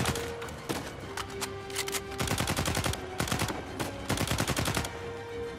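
Rapid bursts of automatic gunfire and single shots in the video game Uncharted 4, loud and dense with short pauses between volleys, no talking.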